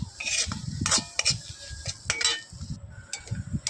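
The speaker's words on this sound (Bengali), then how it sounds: "দিয়ে এটাকে বেশ করে গুলগুল গুলগুল করে নেড়ে নেব" Egg bhurji, scrambled egg with black pepper, stirred in a pan: a spatula scrapes and clinks against the metal in quick irregular strokes under a soft sizzle, close up and with no talking.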